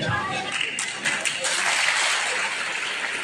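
Audience applause at a tribal unity council's state convention in Maharashtra: a dense, steady wash of clapping that holds evenly for a few seconds, with a faint voice mixed in.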